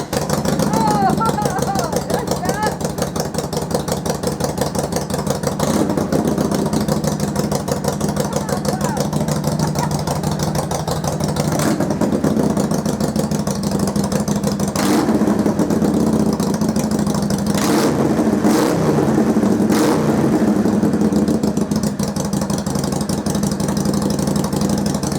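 A Harley Davidson motorcycle with its factory baffles removed starts up and runs loud and close, a deep, continuous rumble with a few sharp revs, and a voice talks briefly over it.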